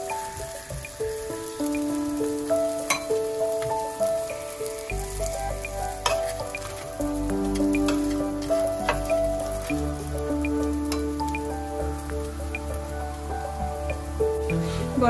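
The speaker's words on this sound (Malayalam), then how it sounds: "രണ്ട് സൈഡും ഡാൽഡ ഒഴിച്ചു കൊടുക്കണം." A Kerala-style porotta fries in Dalda on a hot pan, giving a steady close sizzle and crackle throughout, with brief shifts as the bread is turned.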